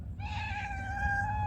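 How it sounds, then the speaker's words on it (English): A stray cat gives one long, drawn-out meow, close and clear, held steadily for over a second over a low background rumble. "I got a stray cat walk up on me."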